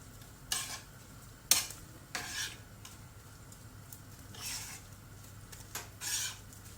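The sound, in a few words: onion frying in oil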